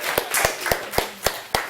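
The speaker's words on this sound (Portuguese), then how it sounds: "Vamos dar uma salva de palmas pro nosso byte." Six sharp, evenly spaced claps, close and distinct, sounding like a few hands in a classroom lecture applauding volunteers rather than a full crowd.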